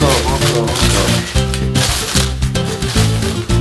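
Newspaper packing paper crinkles and rustles in bursts as sheets are pulled apart while unwrapping aquatic plants, close up, with a voice speaking French over the handling.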